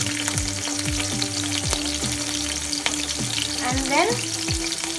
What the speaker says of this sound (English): Once the oil get heated, add some green chilies to it.